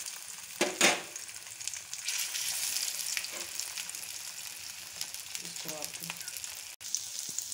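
Shami kababs sizzle and fry steadily in a pan over low heat, a continuous crackling hiss with a few sharper spits, while someone speaks briefly over it.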